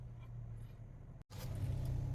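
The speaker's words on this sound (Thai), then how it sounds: "รุ่นนี้เป็นเหยียบเบรกและกดปุ่มสตาร์ท" A push-button-start car, only a few months old with about 6,400 km on it, runs with a low, quiet engine hum that drops out for a split second midway and then resumes slightly stronger.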